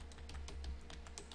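Brisk keystrokes on a computer keyboard as a macro name is entered, a quick run of close, soft taps over a low steady hum.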